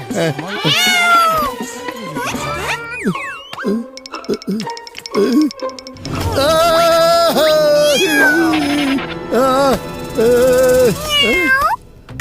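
A cartoon cat from Motu Patlu lets out loud, repeated, exaggerated meows and yowls mixed with comic sound effects, while animated characters speak in between.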